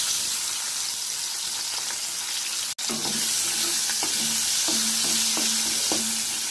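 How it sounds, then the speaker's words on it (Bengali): Flat beans lightly fry in hot oil in a pan, producing a continuous close sizzle with a brief break partway through, then stirring clicks alongside faint tonal sounds. "এবার এই তেলে সিমগুলো হালকা ভেজে নেব।"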